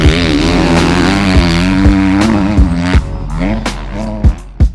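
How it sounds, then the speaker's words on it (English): A 2018 KTM 250 SX-F motocross bike at a riding track, its four-stroke engine loud and close, revving up and down repeatedly with rising and falling pitch. "riding the 2018 250 KTM SXF"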